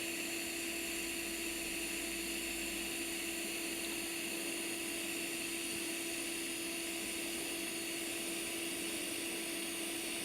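Welding torch working along dirty, unprepped metal, a steady buzzing hum with a sustained tonal drone and fizzing crackle, held constant and fairly close without any talking.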